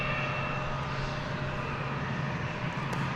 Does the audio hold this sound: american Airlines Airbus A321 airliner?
yes